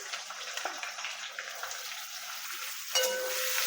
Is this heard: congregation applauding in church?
no